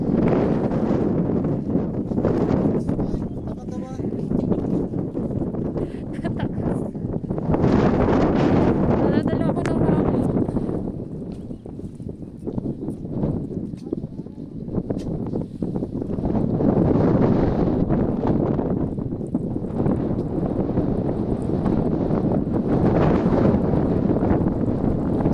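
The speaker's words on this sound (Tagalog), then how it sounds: "Sobrang ano, hangin. Napakahangin dito." Strong wind at Gaomei Wetlands, Qingshui, Taichung, Taiwan, buffets the microphone in steady, roaring gusts for the whole stretch, with a person talking over it now and then.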